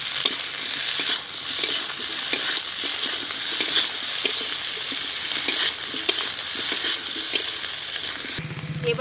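Ginger paste and chopped green banana and potato sizzle and fry steadily in a hot pan, a continuous close hiss with occasional clinks of stirring, no voices.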